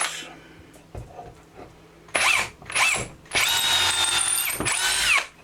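Power drill boring at high RPM while mounting an all-sky camera build, several short whirring bursts followed by a long sustained high-pitched spin, close and fairly loud.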